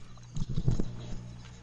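A horse being hand-fed peppermints lets out a short, low whinny close by, a rough, fluttering burst lasting under a second amid faint shuffling.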